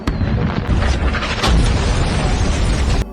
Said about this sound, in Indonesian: bom milik Jo-hyun diledakkan di rumah Kyung-hee